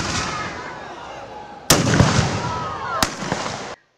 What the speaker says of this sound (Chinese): 25支猎枪鸣枪声响，从卓西传向中央山脉布农族旧居